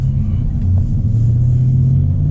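2019 Dodge Charger Scat Pack V8 under light throttle, a loud deep rumbling engine note rising gently as the car pulls away, steady and close throughout.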